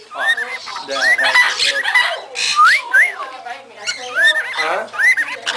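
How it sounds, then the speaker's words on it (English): Parrots in a shop make whistling, squawking calls with rising chirps, close and loud, mixed with people talking nearby. "You're a pretty bird. This one's making cute noises."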